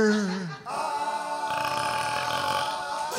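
A loud, drawn-out burp attributed to an octopus in a comic country song, a deep croaking belch that starts low, breaks briefly, then continues as a rough sustained voiced rumble.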